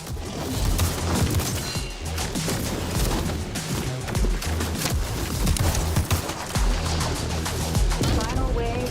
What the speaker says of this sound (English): Slight audio dips, like when you get the nuke explosions.